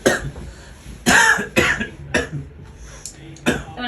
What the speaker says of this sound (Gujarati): તમને બહુ ઉધરસ થઈ ગઈ કા અભી?